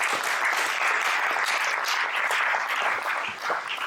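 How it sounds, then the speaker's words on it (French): Conference audience applauds a speaker joining the stage, a full sustained wash of clapping from a large hall that holds steady throughout. "je vais vous demander d'applaudir Philippe Augier"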